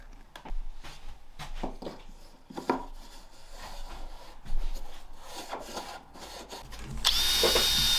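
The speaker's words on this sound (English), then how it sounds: "you're going to pilot hole a drill bit through the centre of your T-block" Scraping and rubbing on wood with scattered knocks, then a power drill whines loudly near the end, drilling a pilot hole through a wooden T-block for a table saw sled, close up and steady.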